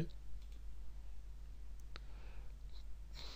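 Mouse clicks on a computer running Adobe Flash CS3, faint and sparse, with a couple of soft isolated clicks over a steady low background hum.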